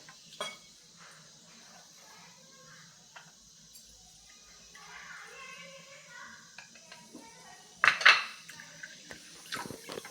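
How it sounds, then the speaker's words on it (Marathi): Water sloshes and splashes in a metal vessel with clinks of a pot, intermittent and close, with a brief louder splash near the end. "ही डाळ पाणी घालून दोन ते तीन वेळेस स्वच्छ धुवून घ्यायची आहे"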